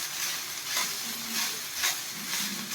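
Boiled rice tipped into a hot oiled pan for egg fried rice, a soft continuous sizzle with a few stirring scrapes and swishes, close and fairly quiet.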